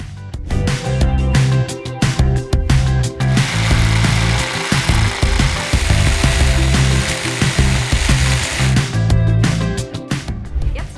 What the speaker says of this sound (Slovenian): Nato bomo spodnje letve prežagali z 20-voltno sabljasto žago Parkside.